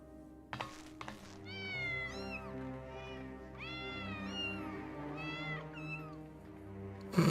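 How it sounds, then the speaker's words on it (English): Cartoonish cats in Final Fantasy XIV meow over and over in high, sliding calls above a steady game music bed, with a couple of sharp knocks near the start. "Kitties."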